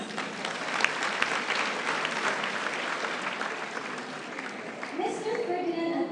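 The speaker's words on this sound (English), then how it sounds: "Another round of applause, please." An audience at an investment seminar on risk and return applauds with dense, steady clapping that fills the room for several seconds, and a voice begins speaking over the fading applause near the end.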